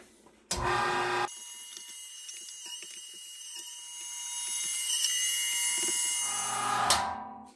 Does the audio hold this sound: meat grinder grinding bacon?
yes